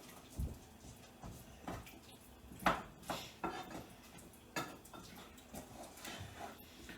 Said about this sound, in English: Making sure that I stir it all the time as it melts.